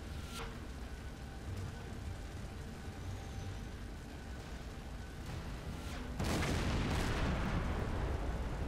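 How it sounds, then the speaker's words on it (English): Deep booms and rumbling blasts from a freighter explosion and gunfire in Silent Hunter 5, with a few sharp cracks early on and a louder rolling burst near the end over a constant low roar. "Nice explosion."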